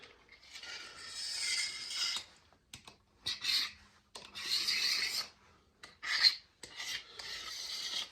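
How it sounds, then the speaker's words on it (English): A hand scraper rasps along the binding on the sides of a guitar fretboard in a string of short, dry strokes separated by pauses, close and moderately loud with no talking. "Scrape the sides."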